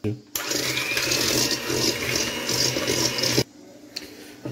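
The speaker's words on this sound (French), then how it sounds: "Donc moi je prends mon batteur." An electric hand mixer whirs steadily while beating three egg yolks with sugar, a loud continuous buzzing drone with a gritty, rasping texture that runs for about three seconds before cutting off abruptly, followed by quieter background noise.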